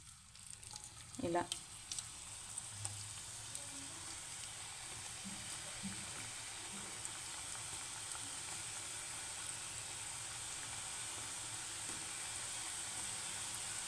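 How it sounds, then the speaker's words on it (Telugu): Cashew pakodi deep frying in hot oil, a steady close bubbling sizzle that runs unbroken after a brief clatter at the start, with a short spoken word near the beginning. "మనం ఇది వేసుకొని డీప్ ఫ్రై చేసుకోవాలి"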